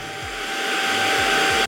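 An Ultonic cordless vacuum cleaner runs with a steady, loud, unbroken whir that holds throughout and cuts off abruptly at the end.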